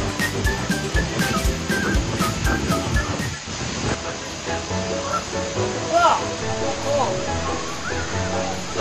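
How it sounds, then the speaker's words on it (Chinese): A steady, full roar of falling water rises from a waterfall in the Xiaoqikong scenic area of Libo County, Guizhou. A voice talks over the continuous rush throughout. "好，那我们接近瀑布吗？"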